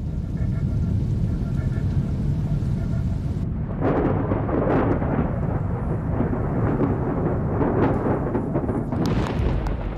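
Thunder from a summer thunderstorm rolls as a deep, sustained rumble, then swells into a louder, rougher roar partway through and keeps grumbling heavily to the end.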